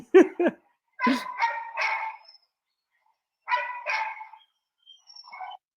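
A dog barks in several loud, close bursts: a quick pair of sharp barks, then a cluster of longer yelping barks, another pair after a pause, and a faint short yip at the end.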